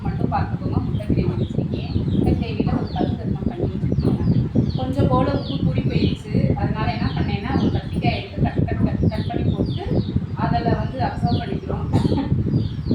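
Chickens cluck and chatter throughout, close by, with voices talking over the busy, scratchy clucking.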